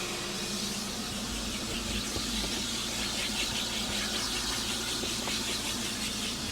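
A vacuum cleaner runs steadily during car interior detailing with a loud, constant whine and hiss, its droning motor unbroken throughout.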